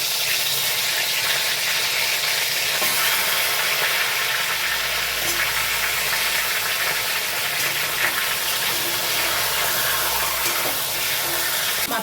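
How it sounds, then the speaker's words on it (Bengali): Rohu fish heads coated in salt and turmeric fry in hot mustard oil in a kadai, giving a loud, steady, unbroken crackling sizzle that holds close and even throughout. "সবার প্রথমে কড়াইতে সর্ষের তেল গরম করে নিয়ে আমি মাছগুলো লবণ হলুদ দিয়ে আগে ভেজে নিচ্ছি।"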